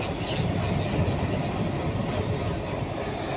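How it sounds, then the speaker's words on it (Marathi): A train pulls out of a railway station in Beed, its steady, loud, close rumble of wheels and carriages rolling on without a break and with no talking. "निघाली ट्रेन"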